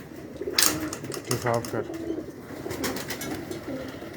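Pet pigeons, including a crested pigeon pair kept for sale, coo in soft, rolling phrases close by, with someone speaking briefly over the birds.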